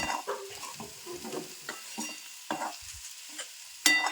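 A spoon stirs matki usal made with moth beans in a pan, giving soft intermittent scraping and a faint sizzle, close and quiet, with a sharper clink near the end.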